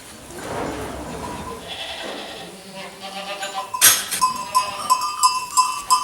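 A goat bleats several times nearby, short harsh calls in the second half breaking over a softer earlier cry, with a puppy around and a person present on a farm.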